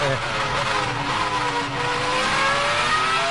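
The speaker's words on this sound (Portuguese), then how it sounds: "Tá aí matando saudade do som do motor da Ferrari." A Ferrari Formula 1 race car at the 2003 Australian Grand Prix, its high-pitched engine wailing loudly and climbing steadily in pitch as it accelerates past.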